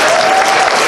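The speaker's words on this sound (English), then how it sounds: "give both of our brand new first-time panelists a round of applause" An audience claps loudly for a live comedy stage show, a dense, close burst of applause filling the brief moment.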